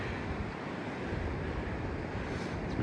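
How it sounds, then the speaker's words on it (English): Steady wind rushes past on a coastal stretch of the Great South West Walk near Portland, a soft continuous roar with faint surf-like wash and no voices. "So I'll be back in the wind down here."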